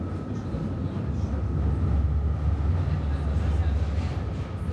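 Low steady rumble and rattle inside a moving Swiss-donated streetcar in Belgrade, with a person speaking over the continuous rolling drone.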